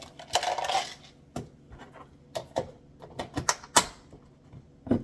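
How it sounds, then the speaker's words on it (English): Chocolate chips patter and clatter as they are sprinkled into a container of cooled homemade granola, giving a scattered run of small close-up ticks and taps with a denser rustle at the start. "I'm going to sprinkle some chocolate chips in."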